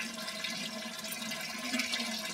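Tap water runs in a steady, continuous rush at a household tap fitted with a water filter, close and even in level throughout with no voices.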